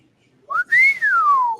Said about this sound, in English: We needed a whistle because chickens they love that.